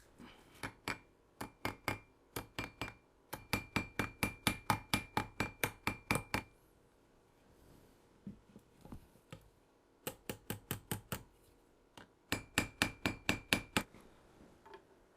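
Hammer blows riveting on an anvil covered with clean tape, in rapid bursts of sharp metallic strikes with short pauses between runs, close and distinct with no talking.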